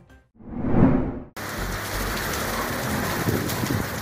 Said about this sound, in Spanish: vean esta inusual lluvia y también tempestad que afectó a los peruanos